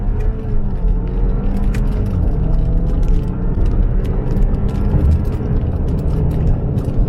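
A 2021 Audi Q5 45 compact crossover with a dual-clutch transmission accelerating uphill, heard from inside the cabin as a loud, steady low engine and road rumble with faint mechanical ticks, no talking.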